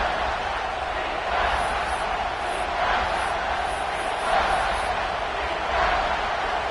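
Stadium crowd noise in the College Football 26 video game forms a steady roar with swelling surges of cheering, under play-by-play commentary.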